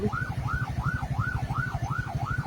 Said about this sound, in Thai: ทั้งๆที่มีรถฉุกเฉินนะครับ เปิดไฟหวออยู่ด้านหลังนะครับผม